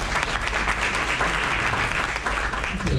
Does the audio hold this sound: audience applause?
yes